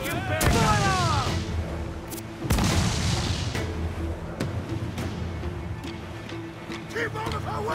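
Ship cannons fire in a naval battle in Assassin's Creed IV: Black Flag, two heavy booming blasts near the start followed by scattered fainter shots and rumbling, with voices talking throughout.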